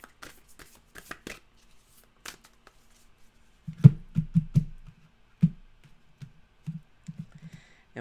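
Rose Oracle cards being shuffled by hand: soft riffling and flicking at first, then a run of close, rhythmic thumping taps and bursts as the deck is worked, with quiet gaps between, no talk.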